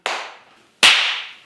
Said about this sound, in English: if you can just do a clap.